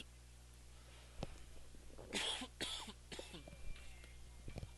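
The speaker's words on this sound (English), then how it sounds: "Excuse me, if any of you guys heard that cough." A few close coughs and throat-clearing bursts break through a quiet background hum, with faint voices around them.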